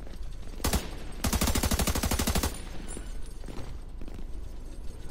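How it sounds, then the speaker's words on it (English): Gunfire in The Division 2, a video game: a single sharp shot, then a loud sustained burst of rapid automatic fire lasting over a second, followed by quieter scattered shots in the distance. "Stop shooting me."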